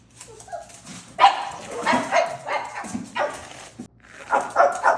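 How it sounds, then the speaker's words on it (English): A small dog barks and yips several times in short bursts, close by, with whimpering sounds between them. "We're gonna hear a little bark."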